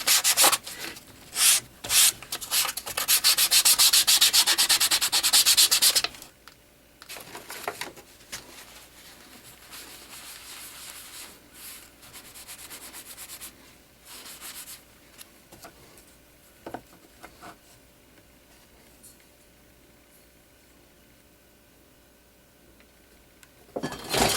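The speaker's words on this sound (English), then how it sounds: "Sandpaper." Sandpaper scrubs a leather sheath for a bowie knife in quick, close, raspy strokes, loud at first for several seconds, then giving way to sparse, quieter rubs and scattered handling noises.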